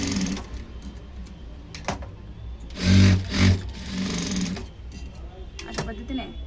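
Domestic sewing machine stitching tucks into a katori blouse, a steady mechanical whir in short runs, loudest mid-clip, with someone speaking over it.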